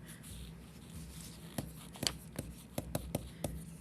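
Writing a note on a chemistry lesson board gives a quiet run of short taps and strokes, a few scattered and then quicker clustered clicks of the pen or marker against the surface, with no voice.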